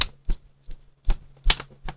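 A card swept slowly through the air gives about six soft, separate whooshes at an uneven pace, faint and close, with no talking.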